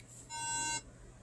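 A single short electronic beep from a computer signalling an error code, a steady high tone lasting about half a second, over faint background hum.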